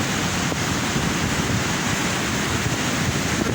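Sea waves break on the shore in December as a loud, continuous roar of surf mixed with heavy wind buffeting the microphone, with no voices.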